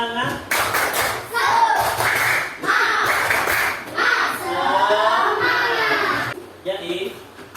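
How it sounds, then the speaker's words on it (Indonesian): A classroom of children performs a rhythmic clap chant, with repeated bursts of group clapping and young voices calling out in unison throughout. "Tepuk semangat"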